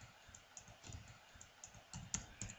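Keys clatter steadily on a computer keyboard while C++ code is typed for a combo box tutorial, with close, fairly quiet irregular clicks and a few sharper keystrokes.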